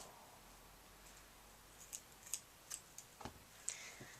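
Scissors snip through a section of clip-in bangs for black hair, giving a run of crisp, quiet cuts in a loose rhythm against a hushed room.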